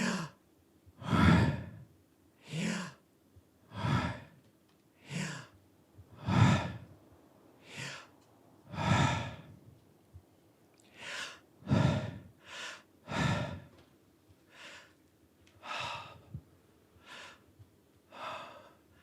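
A voice imitates a sacred divine name with pure breath, a long run of soft, close rhythmic exhalations and inhalations rising and falling in a steady cycle, with no words spoken.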